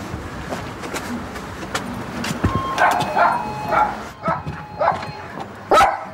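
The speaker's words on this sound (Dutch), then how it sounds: "Klinkt als een kleine hond." A small dog yaps in quick bursts, several sharp barks at moderate distance over faint background noise.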